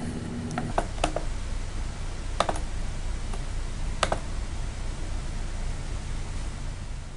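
Scattered clicks of keys on a computer keyboard, a handful of separate taps spread over a few seconds against a steady background hiss, with no voices.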